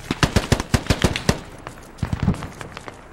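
Automatic gunfire in the tactical squad game Squad: a rapid burst of about nine close, punchy shots, then a brief lull and a quieter, more scattered string of rounds.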